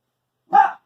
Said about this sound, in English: every video I do, the dogs have to bark